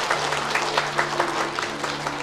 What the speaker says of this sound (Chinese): 让我们用热情的掌声祝福他们吧